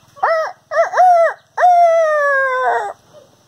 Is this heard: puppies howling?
yes